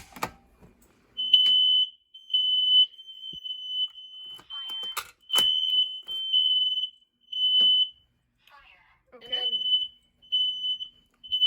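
Fire alarm horn-strobe system with an off-brand Quark VG12 pull station, sounding in repeated loud electronic beeping bursts separated by short gaps in a house, with brief speech between bursts.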